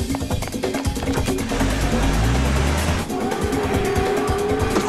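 A car speeds away during a chase, its engine roaring loud and close with rising and falling revs and tire squeal, a continuous dense racing-game style burst.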